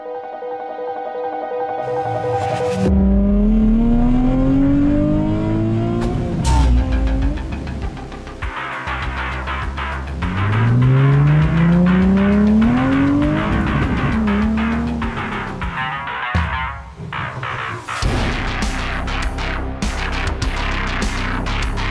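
A 2003 Nissan 350Z engine revs loudly in rising and falling sweeps while its tires squeal through repeated skids, sounding up close with no voices.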